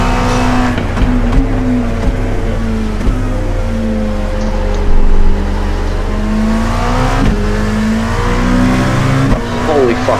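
LMP2 prototype race cars lapping Daytona during night testing, loud engines droning and shifting pitch as they pass near, with a voice talking over the noise.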